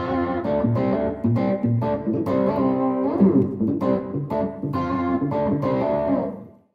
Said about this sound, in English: So right now I have it set to a Brit combo model.